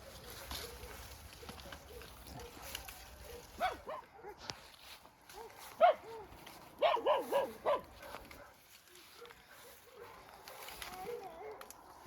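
A dog barks a few times outdoors during an apple harvest, the barks fairly close and mixed in with people talking and rustling nearby.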